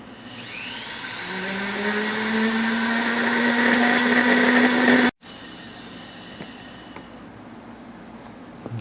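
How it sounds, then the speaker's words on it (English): A Dremel rotary tool cuts a slot in the end of a homemade air filter for a Yamaha Trailmaster 100 motorcycle, a steady high whine rising in pitch under load, then stopping abruptly and giving way to quieter background hum. "And you just need to get you a Dremel tool."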